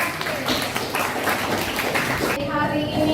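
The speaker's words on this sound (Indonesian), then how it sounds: "kasih tepuk tangan untuk kelompok" Classroom students applauding a group after a presentation, a dense wash of many hands clapping at steady volume throughout, with a short pitched tone near the end.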